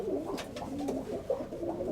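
A pigeon cooing nearby, soft low throaty coos repeating in a steady rolling rhythm over faint background noise.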